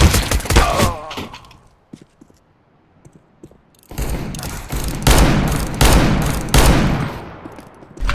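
Gunfire in the video game CS:GO, played competitively on the Nuke map: a loud opening burst of rapid shots, a near-silent pause, then repeated heavy bursts of automatic fire with sharp cracks.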